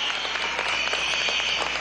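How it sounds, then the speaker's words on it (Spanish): A crowd of university students applauds steadily at a presidential speech, a dense wash of many hands clapping at an even level for the whole short stretch. "Vamos a darle un aplauso al rector de la Universidad Militar Bolivariana"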